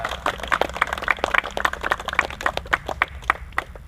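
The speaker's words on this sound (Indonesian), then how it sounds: "tepuk tangan dulu biar semangat" A group claps at a fire-extinguishing practice session, sharp individual hand claps in a quick, slightly uneven rhythm, moderately close and clear, with little else beneath them.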